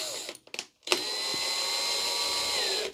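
A cordless Stanley FatMax V20 SDS drill whirs steadily for about two seconds as a bit is tightened in its smooth chuck, preceded by a few brief clicks and a short pause.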